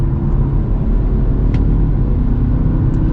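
A 2020 Jaguar XE S with an all-wheel-drive four-cylinder engine accelerates, producing a steady, loud, close engine rumble with no speech.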